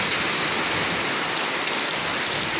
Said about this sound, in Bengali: আমাদের বরিশালে কিন্তু আজকে অনেক ঝড় হচ্ছে।